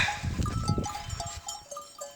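Sheep from a flock of about twenty bleat and shuffle close by, with faint bell tinkles mixed in over a short stretch of farmyard noise.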